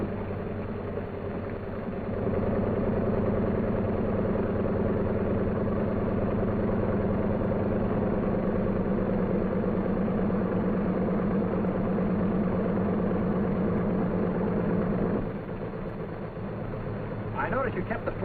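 C-47 Skytrain aircraft engines idle with a steady, close low drone and a faint propeller beat, holding even throughout and dipping slightly near the end, with a voice talking over it.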